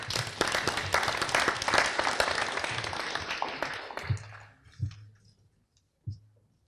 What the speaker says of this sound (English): A round of applause for Darren.